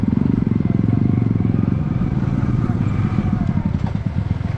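A motorcycle engine running loud and close on an off-road ride, a dense, steady throbbing rumble that holds throughout with slight swells as it revs.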